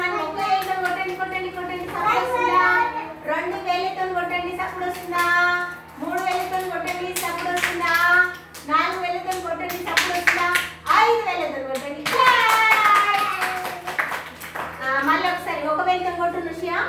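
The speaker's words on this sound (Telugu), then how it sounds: "ఇప్పుడు అందరూ ఒకసారి క్లాస్ కొట్టండి" Children in a classroom clap their hands in short bursts of sharp, close claps while an adult voice keeps talking over them throughout.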